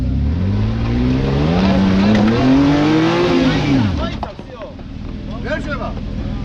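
Car engine revving hard on throttle while off-road near Rkoni and Kldekari, a loud rising and falling engine drone close by that then drops away, with people talking over it.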